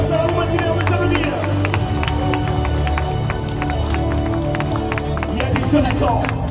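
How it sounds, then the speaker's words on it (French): Marathon runners clap for themselves before the start of a scenic race, a dense, steady patter of many hands from a large outdoor crowd, mixed with chatter and scattered voices throughout. "on peut s'applaudir, ça va vous motiver, on peut s'applaudir."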